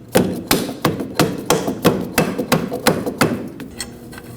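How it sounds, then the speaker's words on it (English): A dead blow hammer strikes a control arm bolt on the rear suspension of a 2003-2006 Subaru Baja, about a dozen sharp, evenly spaced metallic knocks landing close by, with no talking. "you can go ahead and use a dead blow hammer from the backside"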